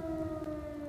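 An air raid siren sounds in wartime Kupiansk, Ukraine, a steady sustained wail with layered tones, moderately distant and alone.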